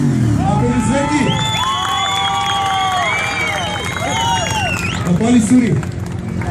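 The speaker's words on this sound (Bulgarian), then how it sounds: "Аплодисменти!" A crowd cheers, whoops and shouts steadily at a loudest-motorcycle contest at a memorial bike gathering, with whistling cries and scattered clapping throughout and voices mixed in.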